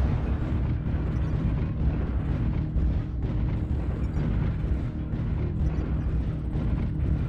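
Weapon cover fire and explosions in the mech combat game MechWarrior Online: a dense, continuous roar of booming blasts and rumbling gunfire, loud and steady throughout with no talk.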